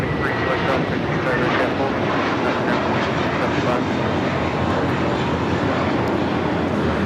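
A JetBlue Airbus A321 takes off at LAX, its jet engines producing a continuous loud roar that fills the whole span. People talk over it.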